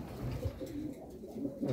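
Pigeons cooing in a large breeding loft, soft low repeated coos overlapping in a steady murmur close by, with faint background voices.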